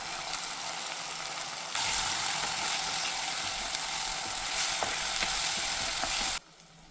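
Two tomatoes fry and sizzle in a pan for pav bhaji, a loud continuous crackling hiss that jumps up as they hit the oil and runs steadily with faint stirring scrapes before cutting off abruptly.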